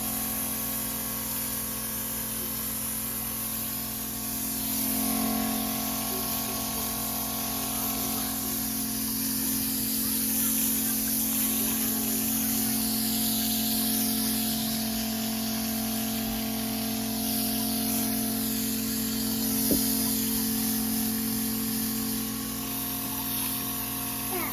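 A pump sprayer mists pumpkin plants with a steady, even hiss over a low mechanical hum that runs without a break for about twenty-five seconds at moderate, close range.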